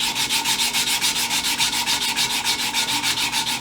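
Sandpaper rubbed by hand over metal on a Colt Lightning firearm during polishing, backed by a hard block, a loud steady back-and-forth rasp in a quick even rhythm of about six strokes per second, close and without talk.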